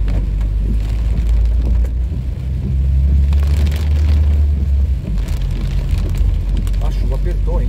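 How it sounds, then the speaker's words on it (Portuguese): Heavy rain drums on a moving car on a city avenue in Porto Alegre, a continuous hiss over a deep engine and road rumble, with someone talking throughout. "A chuva apertou, hein?"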